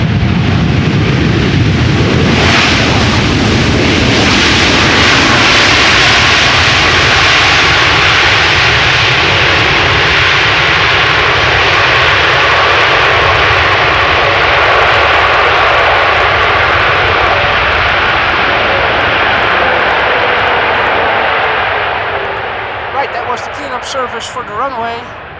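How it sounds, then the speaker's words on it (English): KLM Boeing 787-10 Dreamliner landing at Amsterdam Schiphol, a loud sustained jet engine roar that holds steady for over twenty seconds before easing slightly at the end. "KLM flight 741, a 787-10 Dreamliner returning home from Cartagena."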